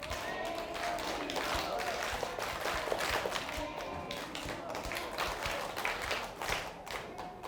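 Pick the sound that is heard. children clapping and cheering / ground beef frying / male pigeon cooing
children clapping and cheering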